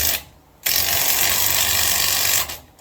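A ratchet clicks rapidly and continuously while tightening hardware on the manual hubs of a Ford Ranger, close and loud for about two seconds between brief pauses, with no talking.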